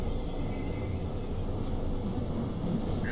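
RhB ABe 8/12 Allegra electric train running slowly at about 30 km/h in Train Simulator 2018, a steady continuous rumble of wheels and motor with no voice heard.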